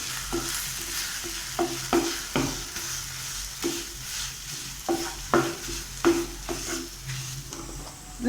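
A poha burfi mixture with milk being stirred in a pan, with repeated scraping strokes of a spoon at an uneven rhythm over a continuous bubbling sizzle, close and fairly loud, with no voices.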